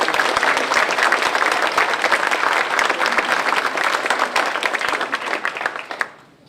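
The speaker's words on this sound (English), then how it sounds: "if we could just give them a great big round of applause" A banquet audience applauds Parks and Rec staff with a sustained round of dense, crisp clapping, loud and steady for about six seconds before quickly tapering off into quiet.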